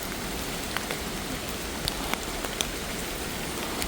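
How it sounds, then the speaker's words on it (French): Steady rain pours down during a hike through misty Costa Rican forest, a dense continuous hiss with scattered sharper drops and drips striking nearby surfaces, no voices. "on a eu le droit à de la pluie et beaucoup de pluie"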